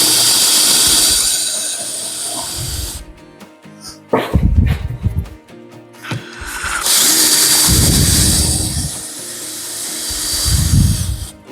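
Power drill boring 6.5 mm holes through an MDF jig while making a drawer, heard as two long, loud, whining bursts of drilling separated by a short pause with scattered clunks.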